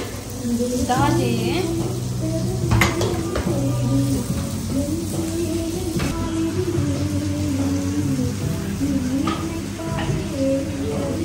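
Bangude (mackerel) fish frying in a pan gives a steady, close sizzle that runs throughout, while voices carry on talking over it.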